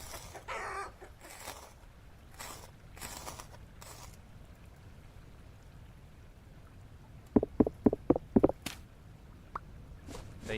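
Chickens in the video game Vintage Story cluck in a burst of several sharp, close calls after a quieter stretch, with scattered earlier clucks over a low ambient background.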